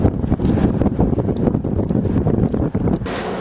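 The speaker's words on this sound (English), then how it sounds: "Oh, it's windy." Strong coastal gusts of wind near a Hawaiian blowhole buffet the microphone in a continuous roar, with faint surf-like rushing underneath and a hissing burst near the end.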